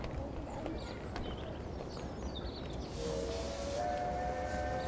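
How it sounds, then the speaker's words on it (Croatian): Train heard in a Teletubbies children's cartoon, with rhythmic chugging and a rising whistle tone near the end, moderately loud amid background noise, with no talking. "Čujem buku vlaka."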